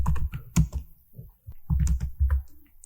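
Close, loud typing on a computer keyboard as a product title is entered, with quick bursts of clacking keys separated by brief pauses.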